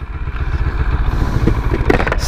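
A CFMoto motorcycle engine idling or rumbling close by with a low, steady throbbing pulse, joined near the end by a few sharp clicks and clatters.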